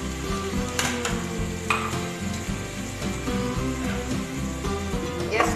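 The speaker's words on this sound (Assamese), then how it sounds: "এইদৰে লৰাই লৰাই ধুনীয়াকৈ সিজি যোৱালৈকে ভাজিব লাগিব" Pumpkin frying and being stirred in a pan on a stove, with a steady sizzle and repeated scraping strokes of a spoon throughout, close and moderately loud.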